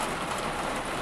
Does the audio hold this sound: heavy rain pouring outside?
yes